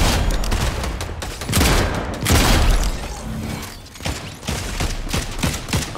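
Bursts of video game gunfire, clustered heavy shots and rattling volleys rising and falling in loudness, some close and booming, others thinner and farther off.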